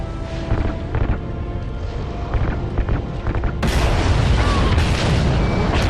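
Ignited RCS fuel lines exploding in Call of Duty Ghosts, several deep booms and bursts amid gunfire, ending in a loud sustained roar of blasts.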